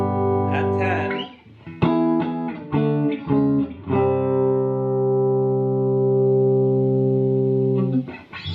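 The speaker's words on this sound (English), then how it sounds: "It sounded like it was starting to break up a little, but I think that was just the pure volume of the amp" A Fender Princeton Reverb tube amp cranked to full volume rings out sustained, loud guitar chords and notes, clean with a slight edge of breakup, filling the clip with no talking.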